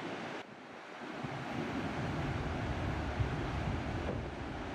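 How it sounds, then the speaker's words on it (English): Ocean waves breaking on a summer shore: a steady, loud broadband wash of surf with wind rumble, continuous and close, no voices. "Let's see how the waves are."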